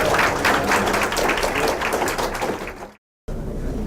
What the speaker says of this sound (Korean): 첫 번째 세션에서 발표와 토론해 주신 분들께는 박수로